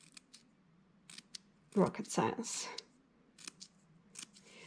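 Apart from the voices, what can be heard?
scissors cutting paper strips for quilling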